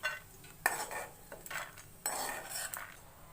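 Metal utensils clink and scrape against a plate and pan while karjikai is served in a home kitchen: several sharp taps and scrapes in quick irregular succession, close and fairly quiet.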